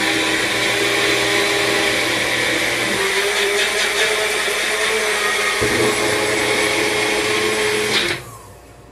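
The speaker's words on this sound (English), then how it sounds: "we're just going to simply whip this up again in the blender" A kitchen blender whirs loudly and steadily, whipping Cellucor Cor Fetti cake batter protein pancake batter with egg, then cuts off abruptly near the end.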